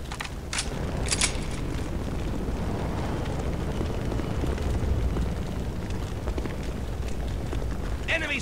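Cannon explosions in the video game Counter-Strike: Condition Zero Deleted Scenes: a loud, continuous roar of heavy blasts and rumbling, with sharper bursts near the start and end.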